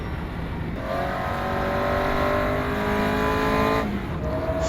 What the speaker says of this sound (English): So we'll start the car, very low power.